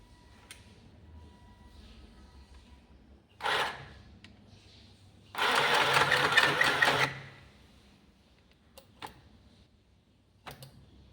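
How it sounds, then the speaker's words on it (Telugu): A mini sewing machine stitches in short bursts. A brief clattering rattle comes first, then a longer, louder run of rapid ticking stitches for about two seconds, with quiet pauses and small clicks around them. "మీకు ఇప్పుడు స్టిచ్ చేసి కూడా చూపిస్తా"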